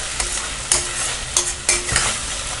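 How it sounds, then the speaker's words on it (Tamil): Onion with ginger garlic paste sautés in a pan for a peas and potato pulao, a loud steady sizzle broken by several scraping stirs and light clinks of a utensil. "இதையும் நல்லா பச்சை வாசனை போகிற வரைக்கும் வதக்கிக்கலாம்."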